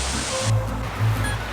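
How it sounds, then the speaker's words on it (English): Unseen waterfall near the Giant's Causeway gives a continuous distant rushing roar filtered through trees, steady and fairly loud, with a few low thumps and no talk. "getting sketchier and sketchier on our hunt for a waterfall. But we can hear it"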